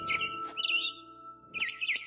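Mother bird in the game What Remains of Edith Finch, chirping in short bright tweets in two clusters separated by a brief pause over a faint steady hum, close and clear with no talking.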